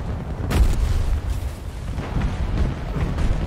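A grenade blast in a first-person shooter played on PC with a controller: a sharp, loud boom followed by rumbling debris and ongoing gunfire-like crackle, with no speech.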